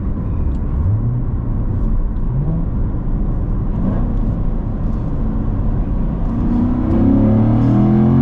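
A manual Corvette C7 Z51 accelerates hard from inside the cabin, a loud, constant engine drone whose pitch climbs through the gears, ending in a strong rising pull.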